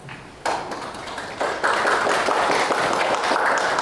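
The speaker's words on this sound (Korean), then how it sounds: "박수로 모시겠습니다" Applause from a forum audience welcoming a member of the National Assembly to the podium, starting sparse and then swelling into dense, steady clapping that fills the room with no talk over it.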